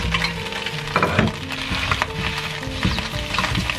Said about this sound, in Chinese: 先把蛋给它炒起来，然后下午餐肉。